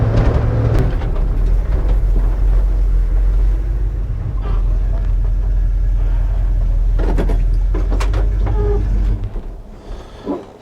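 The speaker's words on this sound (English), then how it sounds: "So let's drive it up here on the hill" A built 1974 Ford F-250 4x4 Highboy on TSL Swamper tires drives up a hill, its engine giving a deep, loud, steady rumble close by that drops away near the end, with some voices over it.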